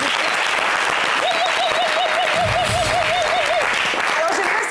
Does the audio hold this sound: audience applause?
yes